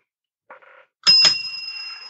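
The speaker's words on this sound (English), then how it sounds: "Well, that was the double bell." A bell strikes twice in close succession to signal the end of a shift, bright and ringing, after a brief faint tone, with the metallic ring lingering and fading.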